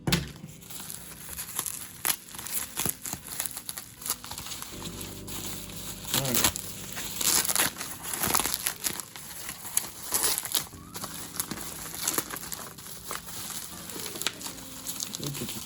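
Model train packaging crinkles, tears and rustles in bursts as a parcel holding locomotives and buildings is unpacked up close, with irregular crumpling throughout.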